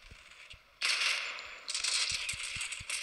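Rapid turret gunfire in the Modern Combat 5 video game: two dense bursts of bright crackling shots, the first about a second long, with faint low thumps underneath.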